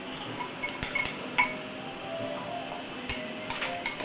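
A spoon stirring water into a bird-food paste in a bowl, producing faint, irregular clinks and ticks against the dish over a quiet background.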